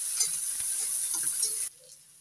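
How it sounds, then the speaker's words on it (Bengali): Chopped onions fry in a pan for an egg and okra recipe. A soft, steady sizzle carries on for about a second and a half, then cuts off into near silence. "এবার দিয়ে দিচ্ছি পেঁয়াজ কুচি, পেঁয়াজটা একটু ভেজে নিচ্ছি।"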